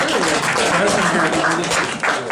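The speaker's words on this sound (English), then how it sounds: "can we have a round of applause, please, for a man who made this decision?" A crowd at a university awards dinner claps and applauds steadily, dense and lively throughout, with a few voices mixed in.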